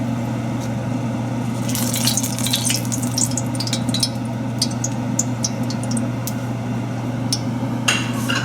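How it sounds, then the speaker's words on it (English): Food frying in hot oil until golden for a khow suey dish, steady bubbling sizzle with scattered crackles and a few clinks of a utensil against the pan, close and clear. "you want to fry this till it's golden"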